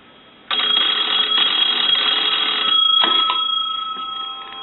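A Stromberg Carlson wooden wall telephone's bell starts ringing abruptly and keeps up a loud, continuous metallic jangle for several seconds before easing slightly, with no talking.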